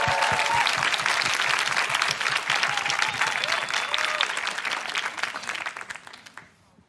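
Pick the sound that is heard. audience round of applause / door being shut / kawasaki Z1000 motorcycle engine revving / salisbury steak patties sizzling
audience round of applause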